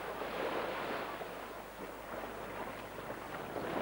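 Wind and sea swell on a 505 sailing race course in a 20-knot breeze, a steady broadband rush of wind and surf with no voices.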